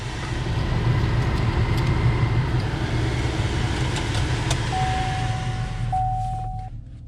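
A pickup truck engine idles steadily after a remote start, with a low, continuous rumble and a faint fan-like hiss, holding constant throughout without talk.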